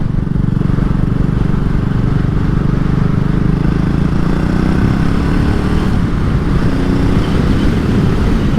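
A 2022 BSA Gold Star single-cylinder motorcycle rides at an easy pace on a British country road, its engine droning loud and steady with a faint shift in pitch near the end, plus wind rush and no talk.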